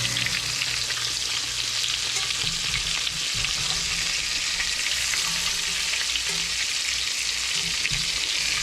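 Triggerfish frying in a pan, a dense continuous sizzle and crackle of hot oil, close and loud, with a few soft low bumps from the pan and no talking.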